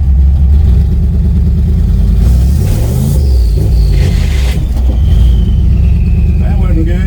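Chevy C20 truck with a boosted engine revving and shifting gears by itself, a loud deep rumble that rises and falls through the gear changes, with a voice talking over it.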